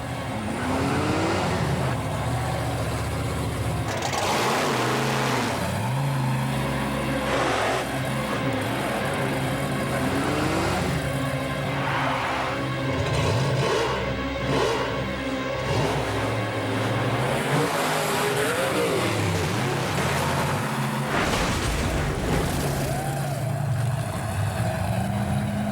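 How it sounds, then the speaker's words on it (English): A loud car engine roars and revs continuously nearby, rising and falling in pitch with no voices over it. "Were you scared when you heard that engine behind you?"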